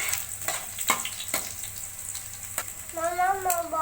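Fennel seeds, cumin and garlic splutter and crackle in hot oil in a pan, a steady close sizzle with sharp irregular pops, and a brief voice joins near the end.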